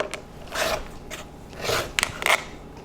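A rotary cutter trims the edges of a fabric quilt block square along a ruler, giving several short, close rasping and rubbing strokes with soft clicks in between.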